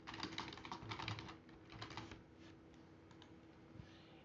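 Quiet, rapid keystrokes patter on a computer keyboard, a dense run of clicks that thins into scattered taps toward the end, with no speech.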